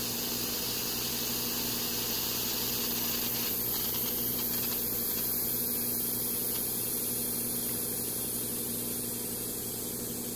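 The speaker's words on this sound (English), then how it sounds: "I'm going to open up the vacuum and open up the vent" Steady loud hiss of air rushing into a VWR Scientific vacuum oven chamber through its vent, continuous and unbroken, over a constant low electrical hum.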